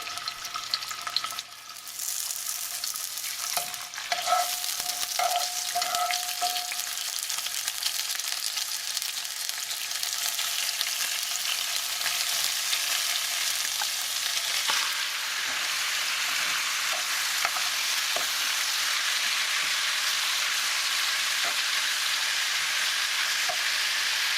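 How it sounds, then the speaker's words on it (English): Steady, loud sizzling of pork pieces frying in a hot pan, a dense crackling hiss that continues without pause, with a few clinks early on. "I'm gonna start adding my pork pieces. It's gonna get really loud"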